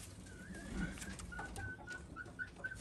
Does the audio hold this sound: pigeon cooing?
yes